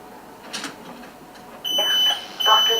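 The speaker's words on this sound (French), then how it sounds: "On a le buzzer et on a le message du relais sur l'air." A small enclosure's door-open detection buzzer sounds a steady, piercing electronic tone, cutting in after quiet background noise and holding loud to the end.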